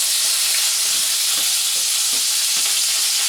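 A skillet for frying fish gives off a loud, continuous hissing sizzle, close and steady, with faint soft knocks underneath and no talking.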